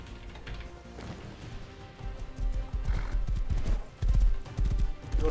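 A horse in the video game Rust gallops with pounding hoofbeats that grow louder and heavier, and a whinny cuts through near the start.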